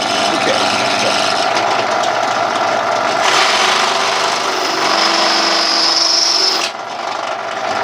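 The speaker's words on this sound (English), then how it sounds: "these will self-center on a standard metal cutting drill bit" A steady grinding, rasping drill bit cutting into a metal cup runs continuously, loud and close, then drops off abruptly near the end.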